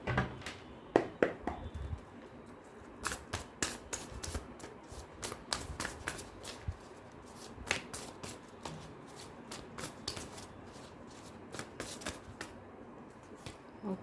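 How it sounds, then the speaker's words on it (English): A tarot deck being shuffled close up, with a run of quick, crisp riffling snaps repeating steadily, no voices. "I'll cut the deck and then"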